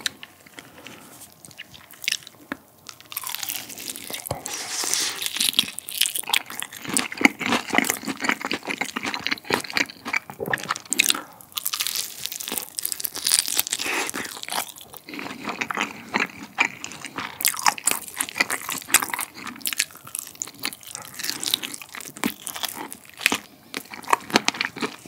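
Crunchy zero-sugar seasoned fried chicken is eaten up close, with dense bites and loud crackling chewing that continue steadily without talk.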